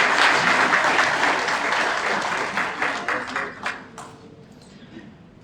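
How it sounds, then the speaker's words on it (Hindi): Audience applause fills a hotel hall at an awards ceremony in Hyderabad, Sindh, a dense steady clapping that thins out and fades over a few seconds, with a faint voice under it. "एक दफ़ा दोबारा आपको ताली बजानी पड़ेगी।"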